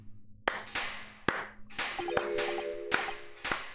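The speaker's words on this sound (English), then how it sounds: "Oh, we're slow clapping, slow clapping." Slow clapping in a video game, about eight single sharp claps spaced roughly half a second apart, each ringing briefly over faint tones and background hum.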